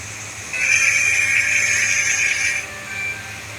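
A steady synthetic train whistle tone from a departing Roblox game train sounds for about two seconds over a low rumble, then fades out, with no talking.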